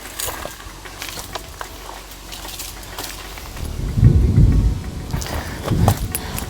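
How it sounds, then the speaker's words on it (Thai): Thunder rumbles low and heavy twice on a mountain trail in northern Thailand as rain begins to patter, with the second roll softer and closer to the end. "ฝน ก็เริ่ม ส่งเสียงทักทายแล้ว"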